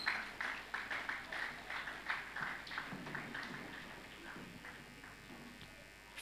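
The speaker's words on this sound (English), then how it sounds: "let's keep clapping to encourage them as they come off the stage" A church audience at a family Sunday service claps for a couple leaving the stage, a burst of scattered, fairly near hand claps that starts strong and thins out over a few seconds.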